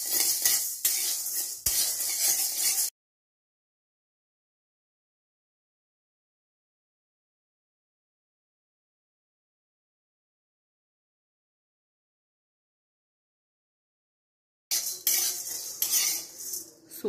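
Dal and grains dry-roasted in a pan for thalipeeth bhajani, stirred with a spoon that scrapes and clinks steadily against the metal. The stirring is heard in two short bursts, at the start and the end, with silence between.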